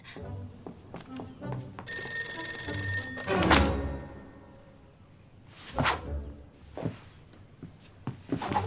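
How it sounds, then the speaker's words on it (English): A telephone bell rings with a bright, sustained metallic trill lasting about a second and a half, followed by a thunk and whooshing movement sounds in an indoor scene. "Oh, the phone."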